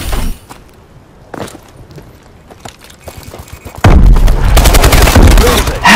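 Gunfire in Call of Duty Advanced Warfare: a few isolated sharp shots early, then a sustained loud burst of rapid automatic fire and explosions dominating the final two seconds, with no speech.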